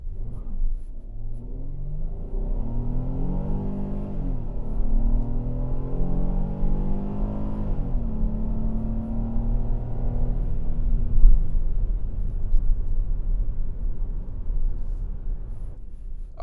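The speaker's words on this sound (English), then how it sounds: "we're gonna try out the acceleration one more time. This time I have traction control turned back on" A 2025 Kia Carnival SX-Prestige V6 accelerates hard with traction control on, its engine note rising steadily through gears in a smooth rumbling whine heard from inside the cabin, fading toward the end.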